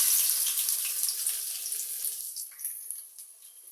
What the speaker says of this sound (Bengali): গরম হয়েছে, বাট আমি এখন এর ভিতরে কিছু পেঁয়াজ দিয়ে দেবো।